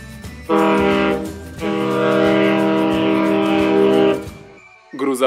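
A cargo ship horn sounds from a children's vehicle cartoon as a loud, sustained blast of rich harmonic tone, with a brief lead-in and a short break before a second long, steady blast.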